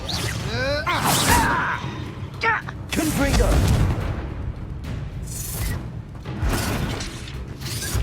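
Repulsor spell cast in Hogwarts Legacy, heard as a loud magical whoosh and burst with booming, crackling impacts, set among game effects and a voice calling out.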